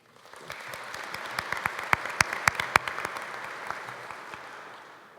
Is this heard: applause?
yes